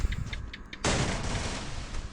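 Burst of gunfire in the shooter game Free Fire, a sharp loud onset followed by a sustained dense crackle of rapid shots after quieter clicks and ambient game noise.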